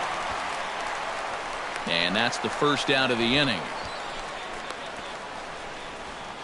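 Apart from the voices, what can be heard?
crowd reacting to a fly ball in a baseball video game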